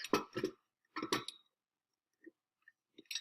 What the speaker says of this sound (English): I'm also going to be putting the lid on the ceramic pot